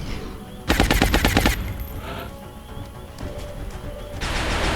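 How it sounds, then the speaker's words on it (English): Rapid automatic gunfire in the video game XCOM: War Within rattles out in a loud burst of about a dozen shots near the start, then smaller game effects and ambient noise follow. "Keep him suppressed. Do not stop firing, Soylent."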